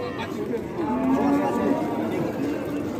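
A European-breed cow moos in one long, loud, drawn-out call close by at a crowded livestock market, with faint chatter in the background.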